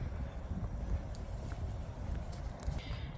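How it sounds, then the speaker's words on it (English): Wind blows on an outdoor walk near a park, as a steady, rumbling low buffeting against the microphone that lasts the whole time without a break. "Mostly the wind, but my jacket is blocking the wind"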